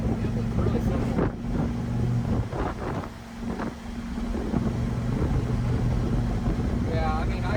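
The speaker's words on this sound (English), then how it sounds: "I could definitely tell just by hearing the engine that the converter is way looser in this deal." A 1951 Dodge Pilothouse truck with a turbocharged LS engine swap and a loose torque converter runs with a steady, close rumble, while people talk over it.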